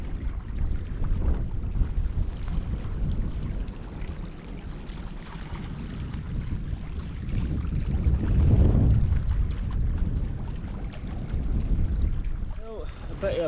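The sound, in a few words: blustery wind at Loch Laggan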